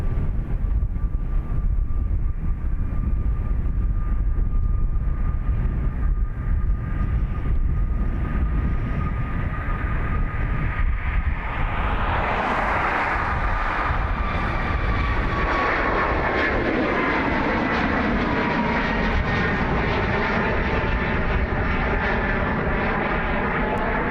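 A Delta jet airliner on runway 28 right at Dublin Airport gives a loud, sustained engine roar that swells and shifts in pitch, ending in a broad rising rush, with no voices over it.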